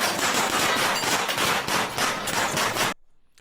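Dense, continuous automatic gunfire during a police bodycam encounter in a house garage, loud and close with rapid overlapping shots for about three seconds before stopping abruptly into near silence.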